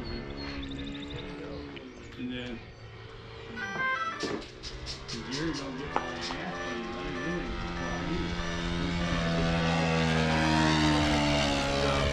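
A nitro-engine P-51 model airplane flies overhead, its buzzing engine rising and falling with throttle changes, loud and continuous with a climbing whine toward the end, heard outdoors amid background voices.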